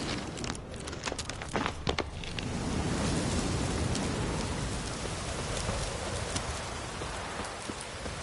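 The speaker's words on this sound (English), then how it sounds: "Oh, it's drizzling." Steady drizzling rain patters in the video game The Witcher 3: Wild Hunt, a dense continuous hiss with scattered drop ticks, fairly loud and unbroken, with no talking.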